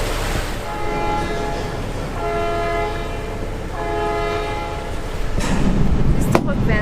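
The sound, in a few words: boat engines starting and horn in Sydney harbour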